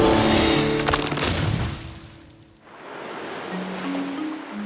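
Ocean surf washes over a rocky shore as the tide recedes, a steady broadband roar that swells loudly, dips briefly in the middle, then builds again, heard alone without voices.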